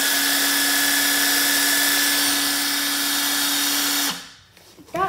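A Milwaukee M18 FID2 impact driver in a different mode runs at a steady loud whine for about four seconds, then stops, leaving brief faint noises and a short voice at the end.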